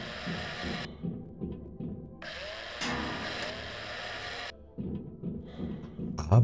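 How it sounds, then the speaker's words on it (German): Drilling into a corpse in the video game Breathedge: bursts of whirring power-drill noise switch on and off several times, moderately loud, with no talking. "Kann ich jede Leiche anbohren?"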